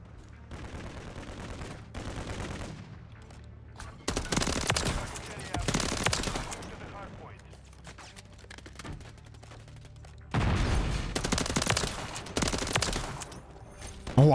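Automatic fire from an MCW rifle in Modern Warfare 3, in two long loud bursts separated by quieter stretches of game ambience and distant shots.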